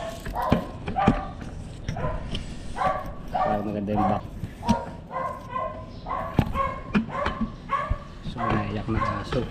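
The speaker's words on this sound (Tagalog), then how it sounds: "Iyak na aso." Dog crying and whimpering at a home meal, with repeated short high whines and yelps scattered through the clip, mixed with people talking nearby.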